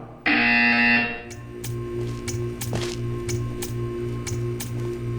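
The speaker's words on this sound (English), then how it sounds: "When you hear the buzzer, stare at the art." A loud, steady electronic buzzer in the video game Portal 2 sounds for about a second, followed by a soft rhythmic ticking pulse that continues underneath.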